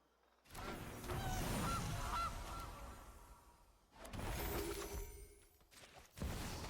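Goose card played in the digital card game Timeless honks loudly in two long, raucous bursts with a brief gap between them, then a short third honk at the end, all over a busy game-effect backdrop.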